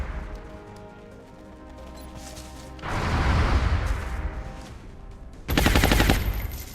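Two loud bursts of XCOM gunfire, close and harsh, each a dense blast of rapid shots lasting a second or two and separated by a short lull.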